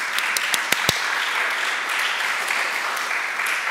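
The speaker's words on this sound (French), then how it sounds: "Alors je vous demande de l'applaudir." Applause from an audience at a talk on border walls around the world, a few sharp individual claps at the start followed by a steady, even patter of clapping from a crowd.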